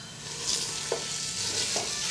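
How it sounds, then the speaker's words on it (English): Ground beef and pork sauté in a pan, a gentle continuous sizzle broken by a few short scrapes and taps of a stirring utensil. "so I will saute my meat a little bit to get a little bit of color"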